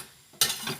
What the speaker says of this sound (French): je vais seulement mélanger pour avoir notre résultat